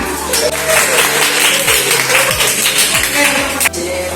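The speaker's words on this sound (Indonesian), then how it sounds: "Ya, tepuk tangan." A classroom audience claps for a student-teacher's presentation, a steady wash of hand claps lasting several seconds at close range, with a faint low hum running underneath.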